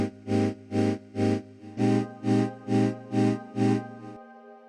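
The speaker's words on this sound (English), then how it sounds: "It's a reverb and pitch shifter in a delay loop for ethereal textures." A Cubase 14 Shimmer plugin sets a reverb and pitch shifter inside a delay loop, turning a repeated synth note into nine rhythmic pulses with a bright, glassy upper halo before a lingering low tone remains alone.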